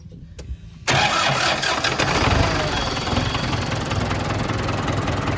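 A New Holland TS110 turbo tractor engine cranks and fires after a brief quiet start, then settles into a steady, loud, close idle that runs to the end.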